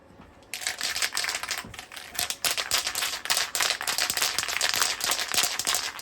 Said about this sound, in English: Of course the can needs a good rattle.